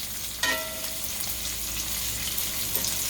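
Italian pork sausages fry with onions and peppers in a pan, a close, continuous hissing sizzle with a brief clatter of stirring near the start and no talking.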